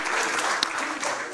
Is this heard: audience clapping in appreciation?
yes